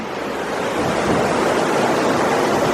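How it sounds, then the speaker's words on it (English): Boulder Creek in Eldorado Canyon State Park, Colorado, rushes with a loud, steady broadband flow of water from close by, with no voices. "This is the creek down here."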